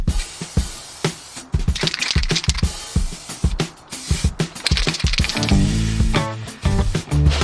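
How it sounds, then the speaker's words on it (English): Short bursts of primer spray paint hiss in quick, uneven pulses, close by, with a rattling can and some clatter toward the end. "let's give it some primer spray and see where we end up"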